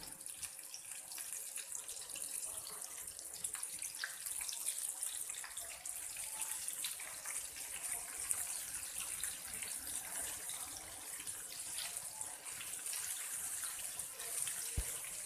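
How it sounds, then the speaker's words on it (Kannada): Chicken pieces deep frying in hot oil over a medium flame for KFC-style fried chicken, a steady dense bubbling sizzle that runs evenly throughout, close and fairly quiet, with no talking. "ಫ್ರೈ ಮಾಡುವಾಗ ಫ್ಲೇಮನ್ನು ಮೀಡಿಯಮಲ್ಲಿ ಇಡಬೇಕು, ಹಾಗೆ ಒಂದೊಂದೇ ಚಿಕನನ್ನು ಈ ರೀತಿ ಬಿಡಬೇಕು"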